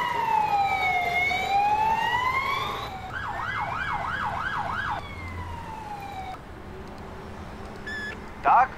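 Police motorcycle sirens in the Emergency 4 video game with the London mod, wailing and yelping tones sweeping up and down in turns, loud and up close, with a short blast near the end.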